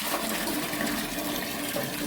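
Water gushing forcefully from a tap fed by a Sintex tank with a pump motor, a loud continuous broadband rush that holds steady throughout with no talking.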